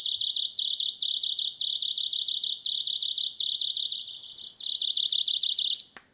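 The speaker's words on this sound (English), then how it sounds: "that kind of intermittent chirping instead of the steady alarm sound is the indication to replace batteries" A high-pitched ADS sound alarm with a low battery beeps in rapid intermittent chirps, pausing briefly before a longer steady tone, loud and close, partly muffled by a hand, no talking.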